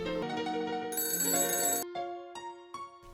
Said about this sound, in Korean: 그리고 장난감 전화기로 연락이 옵니다.